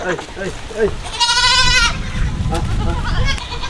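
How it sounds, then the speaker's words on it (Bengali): A goat on a farm near a pond gives one long, loud, quavering bleat in the middle, with people talking before and after it. "এখানে ছাগল টাগলে করছে"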